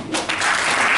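Crowd applause at a FIFA Women's World Cup trophy event in Jamaica, a dense steady clapping that swells quickly and holds loud for the full second.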